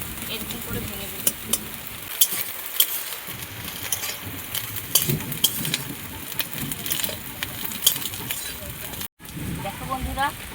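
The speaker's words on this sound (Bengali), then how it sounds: "ডিম দেওয়ার পর এরকমভাবে নাড়তে হবে।" Egg with sesame is stirred and fried in a pan with a spatula, a soft crackling sizzle with scraping clicks while someone talks over it.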